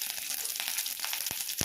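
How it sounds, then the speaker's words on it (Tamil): Mustard seeds and fenugreek fry in hot oil, a steady close sizzle with small crackling pops near the end. "கொஞ்சமாக கடுகு, கொஞ்சமாக வெந்தயம் போட்டு அதை நல்லா ஃப்ரை பண்ணிக்கலாம்"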